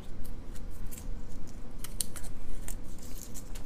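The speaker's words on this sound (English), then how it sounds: "we're gonna just go ahead and quickly rip the paper off" Sublimation transfer paper being ripped quickly off a heat-pressed leatherette bag tag, heard as a run of short crisp tearing and crackling bursts over a steady low background, with no talking.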